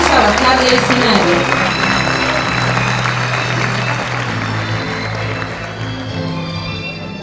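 Applause from an audience at a school graduation ceremony, a steady wash of clapping heard alongside music and a voice, fading gradually toward the end.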